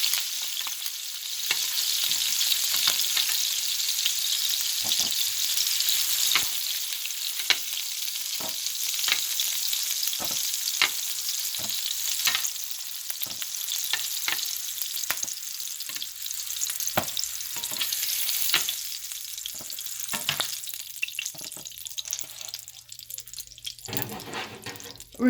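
Pieces of chicken for afritada sizzle and crackle steadily in hot oil in a pan while being browned, a continuous close frying hiss with occasional stirring clicks and scrapes throughout.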